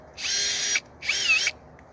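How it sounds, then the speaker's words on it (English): A power drill buffing off car scratch remover whirs in two short bursts, each about half a second, separated by a brief pause, close and fairly loud. "let's grab our drill and let's dry this off"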